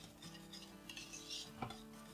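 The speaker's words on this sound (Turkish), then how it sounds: "Hepsini döktüm. Ve böyle hızlıca karıştırıyorum." Metal spoon or whisk scraping and clinking quickly against a pot while 200 ml of cream is stirred for a magnolia dessert, faint and close, with soft rhythmic scrapes and one sharper clink.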